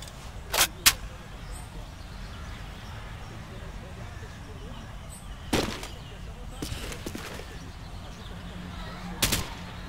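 Several sharp video game gunshots in Call of Duty battle royale ring out in short bursts, separated by long stretches of quieter background noise with low murmuring.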